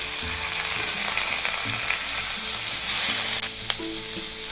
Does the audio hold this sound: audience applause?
no